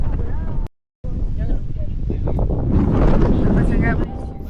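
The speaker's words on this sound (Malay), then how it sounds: "Kuat sikit angin dah kuat." Strong wind blows across the microphone outdoors, a loud rough rumble that stays steady throughout with a brief dropout, while people talk over it.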